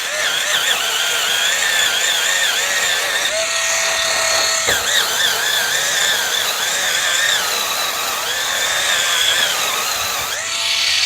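A cordless electric spin scrubber whirs steadily throughout, a close, continuous motorized hum with small pitch wobbles as the brush presses and scrubs bug residue off a surface.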